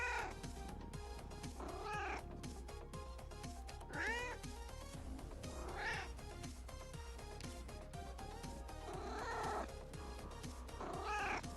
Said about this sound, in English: Oh, she does meow constantly.